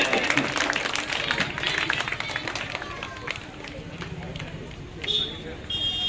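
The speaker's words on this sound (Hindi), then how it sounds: "उसी स्कूल के जोरदार तालियां हों।" An audience at a school event claps in a scattered, uneven burst, with a voice speaking over it and a brief tone near the end.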